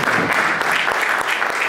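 An audience applauds at a spring concert by a music school in a church, a dense, steady burst of clapping that stays loud and close for the full stretch.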